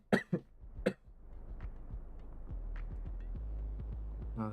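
A person coughs a few sharp dry times at the start, then a steady low hum and soft rhythmic thudding continue underneath for the rest, fairly quiet.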